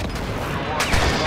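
Rapid gunfire fills a video game shooter match in a dense, continuous barrage of overlapping shots with a louder burst near the end, and faint game voices sit underneath.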